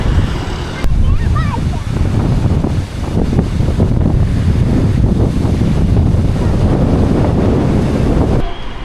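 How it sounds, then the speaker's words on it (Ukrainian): Strong wind buffets the microphone in a constant loud roar of low rumble and gusty noise, with faint street sounds underneath, near a construction site in Vietnam. "Такий вітер, сміття літає, пил літає"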